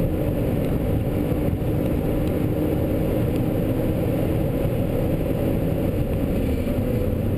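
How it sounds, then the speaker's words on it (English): A 2012 BMW Z4 sDrive35is on a fast track lap, heard as a steady, loud engine roar with heavy wind and road rumble that stays constant throughout, with no voices. "Here's our fast lap in the BMW sDrive35is"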